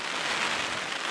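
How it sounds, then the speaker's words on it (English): Steady rain falling at a fishing spot at Broom Fisheries near Annan, a close, even hiss of drops on surfaces with no pauses. "It's only just come on to really rain like this"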